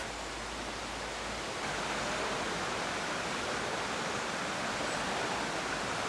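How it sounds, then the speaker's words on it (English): Hardraw Force in Wensleydale, Yorkshire, England's highest single-drop waterfall, falls 100 feet over rock with a soft, steady rushing hiss heard from some distance. The sound stays even and unbroken, with no voices. "So here is Hardraw Force Waterfall, England's highest single drop waterfall, and it falls 100 feet through the Yorkshire series of rocks"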